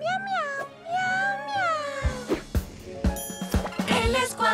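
A cartoon cat from a Spanish-language Numberblocks episode meows repeatedly in clear, tonal, gliding cries, followed by bright chiming and tinkling sound effects.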